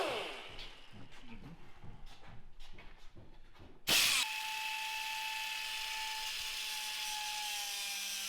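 Rhythmic scraping strokes give way to a sharp burst, then a sustained high whine of a power drill running steadily, close by, drilling holes for a car's exhaust.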